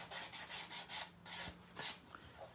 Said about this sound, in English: I'm just going to lightly sand the edges of that because it's sharp